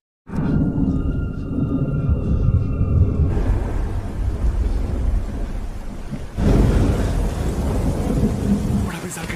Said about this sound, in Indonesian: Di tengah hujan badai